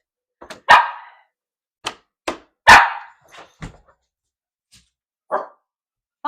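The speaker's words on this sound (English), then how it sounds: "If you're going to sit there and bark." A dog barks in a series of sharp, separate barks with short pauses, loud and close in an indoor setting, with no talk over them.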